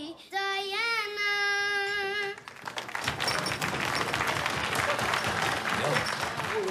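Studio audience applause on a Dutch television talk show, breaking out loud and dense after a sung ending, many hands clapping steadily and evenly for several seconds.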